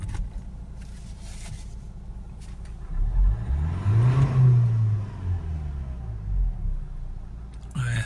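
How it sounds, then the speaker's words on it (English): A 2010 car engine with 59,000 miles, previously hampered by a blocked diesel particulate filter, idles low, then revs up smoothly to a higher pitch and eases back down, steady and close. "So it's revving up nice and freely now"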